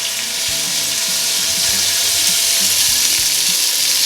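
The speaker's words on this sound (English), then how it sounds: "You want to hear that sizzle when they're going in." Beef cheeks with a charcoal rub sear in a hot pan, giving a loud, steady, dense sizzle that fills the whole stretch without pause, with faint low knocks underneath.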